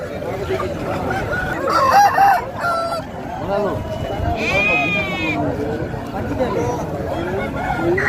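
Roosters crow and native chickens cluck amid a noisy crowd, with people talking and other animals bleating nearby in a busy poultry market in Nallapadu.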